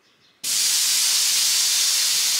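Air bursts out of a Tacoma's Airlift towing air bag as it is aired down with the Schrader valve pulled, starting abruptly and continuing as a loud, steady, close hiss with no talk.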